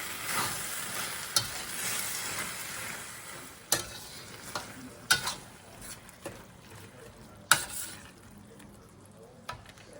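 Shrimp stir-fried with spinach in a pan for Malaysian fried vermicelli, a steady sizzle broken by several sharp scrapes and clacks of a utensil against the pan.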